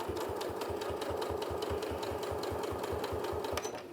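A sewing machine runs steadily, stitching a face mask with the needle set to the far-left zero position and a 3 mm stitch length, its needle strokes forming a fast, even mechanical rhythm throughout with no talking.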